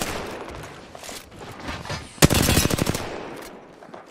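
Rapid automatic gunfire in a video game match, a loud burst of closely spaced shots lasting under a second, preceded by quieter scattered game noise and shots.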